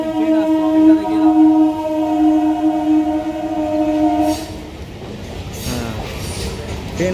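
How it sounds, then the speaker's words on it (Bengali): A train runs along the Ganges bank near Nimtala ghat. A sustained horn blast of several seconds is followed by rumbling, clattering wheels as the cars roll past nearby. "পিছনে দেখতে পাচ্ছেন ট্রেন আসছে"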